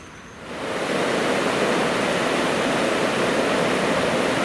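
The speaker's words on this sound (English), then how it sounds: "The river rushes past this" The Hogsmill River in Surrey rushes past a mill weir, a loud, steady broadband roar of flowing water that swells in over the first half second and then holds constant.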